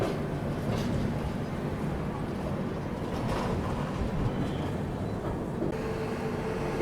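The Sanghamitra Express rumbles past on the adjacent track while a train carrying the listener overtakes it, making a steady, loud, low rolling roar with a few rattles and faint voices in the background.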